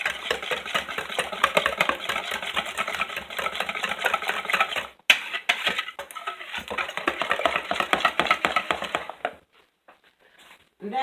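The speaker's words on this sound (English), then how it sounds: "So we're going to mix all that in." A utensil rapidly whisking and stirring a French toast casserole mixture in a bowl, a fast, continuous scraping and clicking rhythm, close and fairly loud, pausing briefly midway, then resuming before falling quiet near the end.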